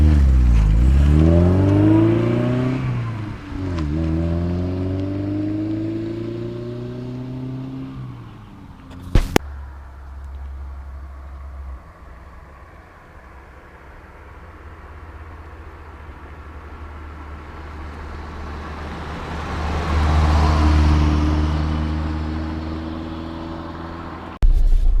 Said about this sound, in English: we're just gonna cruise around in the little BMW 2002